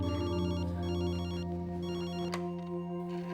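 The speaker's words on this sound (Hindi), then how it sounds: "शंभू, शंभू, कोई फोन भी नहीं उठा रहा है।" A telephone rings on and on with no one picking up, its repeated electronic trill clear and fairly close in a quiet room.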